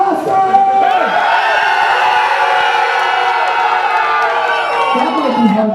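A crowd at a Robot Riot homecoming robot-combat final cheers and whoops for the Butter Blaster robot, a loud, sustained roar of many voices filling the space for several seconds.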